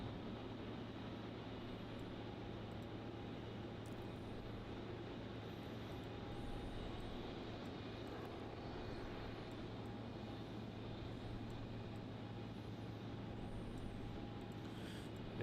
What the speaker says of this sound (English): the SQ Cargo. 777 freighter. Just arrived in from Sydney.